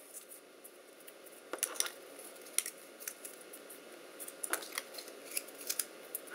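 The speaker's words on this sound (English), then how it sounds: "I'm gonna go ahead and fold these all up again." Paper slips for a prize draw being folded up by hand, giving soft, intermittent crinkles and sharp creasing snaps scattered across a quiet room, close and faint.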